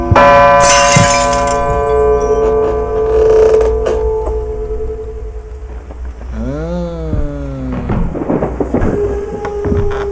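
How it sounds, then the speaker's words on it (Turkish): A church bell tolls in the video game Phenomena, loud sustained clangs ringing out over a rumbling, stormy backdrop, joined later by a falling mechanical wail. "Susturun çanı."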